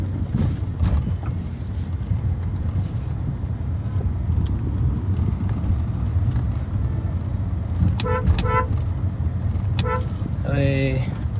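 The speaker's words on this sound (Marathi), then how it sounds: "ट्रॅफिक बघा, लय ना ट्रॅफिक ना" Heavy road traffic in Pune, a dense near rumble of engines with several short car horn toots near the end, under people talking.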